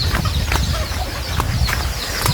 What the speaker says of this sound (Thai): นี่เป็ด